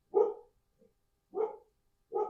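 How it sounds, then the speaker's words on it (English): A dog named Nala, at home, barks in short single woofs spaced about a second apart, three clear barks with a faint small yip between, fairly close and alone without talk. "Barky Barky, that's our dog."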